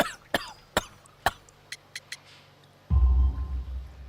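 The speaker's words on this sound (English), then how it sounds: "You have a severe cough." Coughing from a coal-dusted worker in the Sherlock Holmes: The Devil's Daughter video game, a run of sharp separate coughs fading from loud to fainter, then a deep, rough throat rumble that continues to the end.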